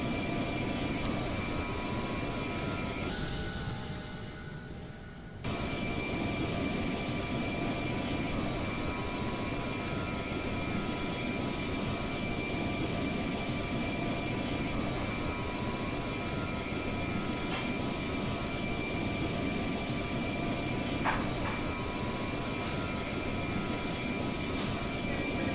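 Steady broadband jet roar of a Virgin A330-900neo cruising in the GeoFS flight simulator, droning continuously with a brief dip early on, no voices.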